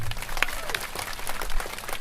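Audience applause at a seminar led by a priest, a short burst of scattered clapping with room murmur, moderately loud and near.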